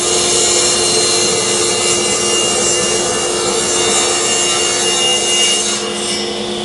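A table saw cuts wood stock for jewelry boxes with a loud, close, sustained whirring rasp that holds steady throughout the cut, with no voices.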